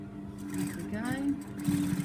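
Sewing machine top stitching fabric around a corner, a steady mechanical hum with rapid stitching texture underneath a person talking, fairly close and moderate in level.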